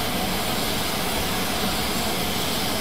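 Steady, dense roar of a fast jet in low-level flight toward Wales' Mach Loop, a broad continuous rush filling the whole clip at constant loudness with no voices.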